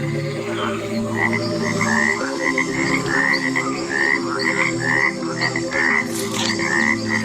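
A cane toad croaks in a steady series of repeated calls, loud and close, with other frogs chorusing in the background.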